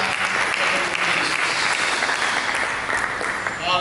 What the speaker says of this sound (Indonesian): Mari kita berikan tepuk tangan kepada Yesus.